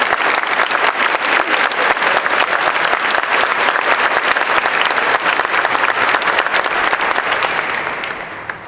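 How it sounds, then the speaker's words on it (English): Loud, dense applause fills an event hall, sustained and even for several seconds before tapering off at the end. "She's here today, so she deserves the applause"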